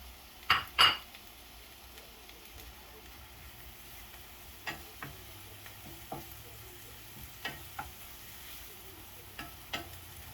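Onions are sautéed in a pan for a home-cooked bitter gourd dish, with a faint sizzle under sharp utensil clinks and scrapes. Two loud knocks come early, followed by scattered stirring taps.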